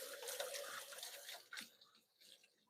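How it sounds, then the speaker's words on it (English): Running tap water splashes as hands are rinsed at a kitchen sink, a steady close wash that breaks up and tapers off toward the end. "Give my hands a quick rinse."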